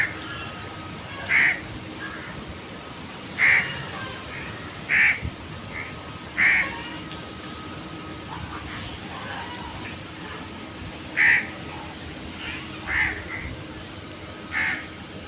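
Crows caw in short, separated bursts, roughly every couple of seconds, over a soft steady outdoor background in light drizzle and wind near ducks at a village in the afternoon; a faint hum runs underneath.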